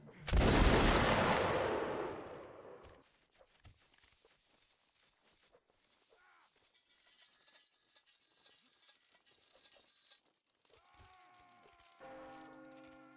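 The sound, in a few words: infantry volley of rifle fire on command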